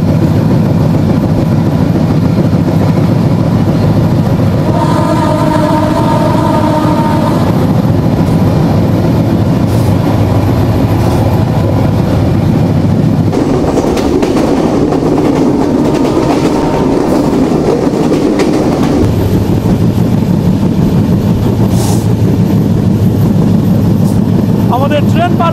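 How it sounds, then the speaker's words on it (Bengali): The Kapotaksha Express (715) rolls through Rupdia station with a continuous heavy rumble and rhythmic clickety-clack of wagons, loud and close from on board, while voices murmur faintly underneath. "আমাদের ট্রেন পার করছে রূপদিয়া স্টেশন।"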